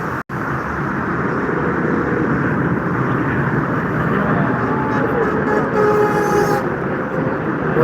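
A Thai Airways airliner arriving at Frankfurt Airport makes a loud, steady, broad roar that rumbles on throughout with slight swelling and no clear breaks.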